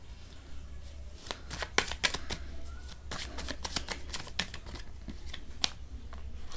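Tarot cards being shuffled by hand, a quick run of soft riffling flutters and slaps, close and fairly quiet with brief pauses between bursts.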